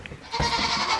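A goat bleats on a farm on a cold, windy day, the call rising loud and close after a quieter start and carrying on to the end.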